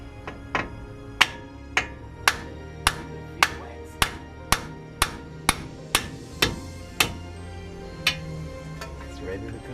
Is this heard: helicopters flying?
no